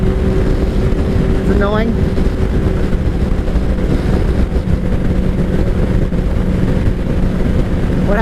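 Steady engine drone of a 2003 Kawasaki ZR7S motorcycle cruising in fifth gear, heavy wind buffeting over the ride, with a short spoken remark near the start.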